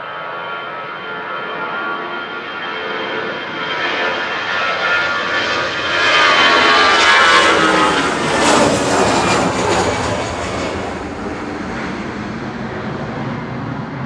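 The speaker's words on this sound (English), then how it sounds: "EasyJet departed on 23 left now to Prague." EasyJet airliner departing on runway 23 left at Manchester Airport, its jet engines roaring steadily throughout and swelling to a loud peak midway before easing slightly, with no talk over it.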